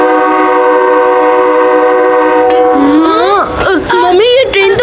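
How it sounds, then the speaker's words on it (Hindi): An animated train pulls out of a station with a long, loud, steady horn. Voices then rise over the tail of the horn, and the rumble of the train carries on beneath them. "मम्मी ये ट्रेन तो जा रही है।"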